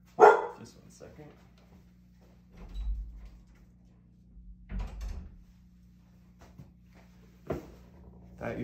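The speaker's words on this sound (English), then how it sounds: "Excuse the barking." A dog barking indoors in a few scattered sharp bursts, separated by quiet stretches, with someone talking in between.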